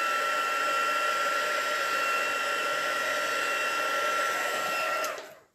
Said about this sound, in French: je refais un petit coup de pistolet chauffant